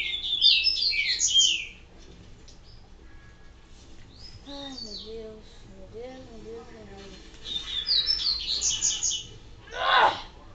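Shrill, rapid bird chirps and tweets from the Resident Evil 4 video game come in loud bursts at the start and again near the end, with a voice talking in between and a short sharp call at the finish.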